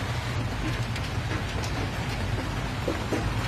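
Rain pours outdoors as a constant, dense wash of noise with faint scattered taps, steady and unbroken from start to end.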